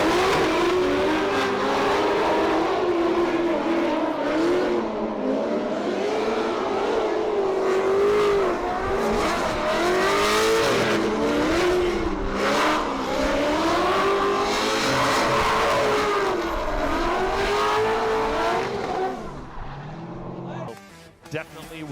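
Drift cars at Formula Drift Orlando, including a supercharged Toyota 86, rev hard with wavering engine notes and squealing tires in a long loud sustained run that fades near the end, under excited commentary.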